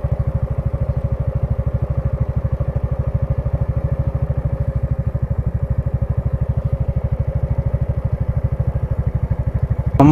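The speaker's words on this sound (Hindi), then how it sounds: "बाइक पहले गियर में आ रही थी।" Motorcycle engine labouring uphill in first gear near Phandar in Gilgit-Baltistan, a loud, steady, fast thumping close by for the whole stretch, with no talk.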